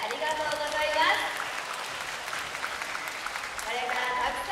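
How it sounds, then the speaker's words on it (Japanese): Audience applause rises and falls at an orca training show at an aquarium pool, a crowd clapping while a presenter speaks over it. "温かい拍手ありがとうございます。"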